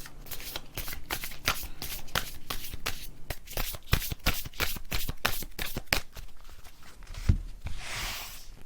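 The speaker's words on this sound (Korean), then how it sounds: "1번 분들 조언 카드 한번 뽑아볼게요." Tarot cards are riffled and shuffled in a steady run of crisp, close flutters and snaps that continue for several seconds with no talking.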